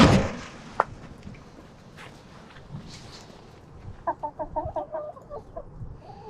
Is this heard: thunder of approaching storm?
no